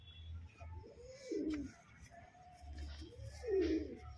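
Pigeons cooing nearby, two soft low rolling coos a couple of seconds apart over a quiet background with faint hum.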